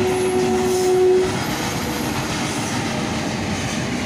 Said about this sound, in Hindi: बस अभी अब रेलवे क्रॉसिंग आया है, आपको ट्रेन दिखा देता हूँ एक नज़ारा